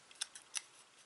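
Scissors snipping through card stock for a Christmas card, with a few quiet, crisp cuts spaced over about a second, close up and faint.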